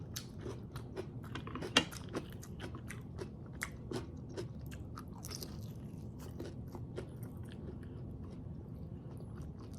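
Fresh cucumber is crunched and chewed during a Filipino mukbang with pork siomai, a series of close, crisp crunches and wet chewing at an irregular rhythm, fairly quiet overall with one sharper bite early on.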